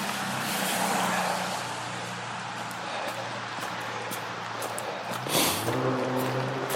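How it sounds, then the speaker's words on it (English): Cars pass steadily on a nearby road beside a hiking trail, a continuous broad wash of tire and engine noise that swells slightly near the end as a vehicle goes by. "That's where the car noises are coming from the right hand side"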